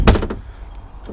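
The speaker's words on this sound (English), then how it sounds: "Off the helm, you have another storage area that pops open" A storage compartment off the helm of a 2015 Robalo R207 dual console boat pops open with a short close knock and latch clatter, then a faint second click near the end.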